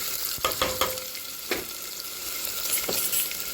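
Onion, ginger and green chili fry in a pan with a steady close sizzle, broken by a few sharp stirring scrapes and clinks, and no voices.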